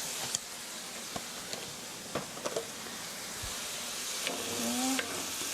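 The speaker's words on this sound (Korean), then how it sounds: "간장이 살짝 볶이도록" Soy sauce stir-fries in a hot pan for jajangmyeon, a steady close sizzle with occasional clicks and scrapes of stirring, no talking.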